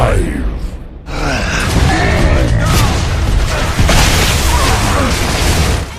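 Video game shotgun blasts come in a loud, dense barrage of booms and crashes with mechanical reload noises, while a voice talks over them almost throughout.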